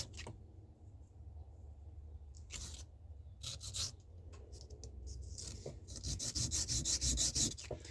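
A metal jewelry bezel is rubbed back and forth against a rubber block to clean it, making close, dry scraping strokes that come in uneven bursts and grow busier and denser toward the end.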